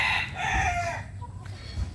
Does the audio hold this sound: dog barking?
no